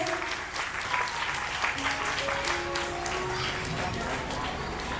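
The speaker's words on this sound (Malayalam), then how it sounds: "എല്ലാവരും നല്ലൊരു കൈയടി കൊടുത്തേ" Audience clapping at a government upper primary school ceremony, a dense, steady round of applause from a crowd that carries on throughout, with faint voices beneath.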